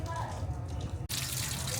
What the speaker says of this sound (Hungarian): Szóval itt is mossák a húst.